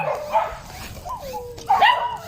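A dog barks and yips nearby in a short bout, with a few sharp calls and whining pitch slides, loud against faint background voices.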